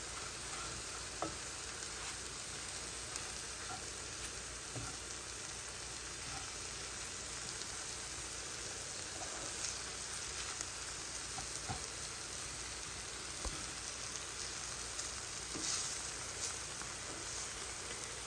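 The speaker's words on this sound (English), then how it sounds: "Now we're getting our flour browned slightly." Flour browning in butter and vegetable juices in a pan for chicken pot pie: a steady soft sizzle and crackle with occasional scraping stirs, continuous and fairly faint throughout.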